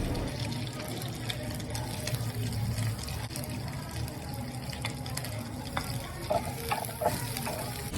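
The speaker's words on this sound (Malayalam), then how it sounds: "ഇതാ നമ്മൾ ചെറുതായി കട്ട് ചെയ്ത് വെച്ചിട്ടുള്ള ഇഞ്ചിയും പച്ചമുളകും ഇട്ട് കൊടുക്കാം" Chopped ginger and green chillies frying in hot coconut oil for grape pachadi, a soft continuous sizzle with light stirring scrapes, fairly quiet and without talk.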